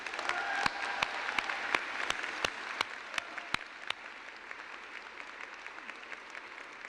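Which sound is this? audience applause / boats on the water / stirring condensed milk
audience applause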